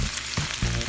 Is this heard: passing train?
no